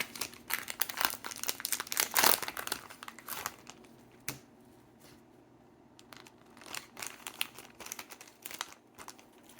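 A foil trading-card pack wrapper crinkles and tears in bursts of sharp, close crackling, with a pause midway before more rustling and ripping resumes.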